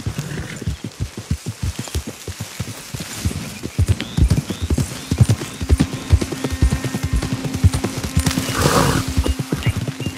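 Horses gallop in Red Dead Redemption 2, hooves clip-clopping in a steady rhythm close by, with an occasional whinny and a low hum under the hoofbeats.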